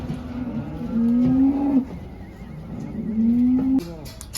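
Cattle on a farm in Saudi Arabia at night, two loud close moos a couple of seconds apart over low background noise from the herd being loaded onto a vehicle.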